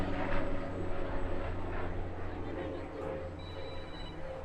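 A Swiss Pilatus PC-7 aircraft flying a slow roll at an RAF Cosford airshow, its engine drone fairly distant and steady, rising and falling slightly while a commentator speaks over it.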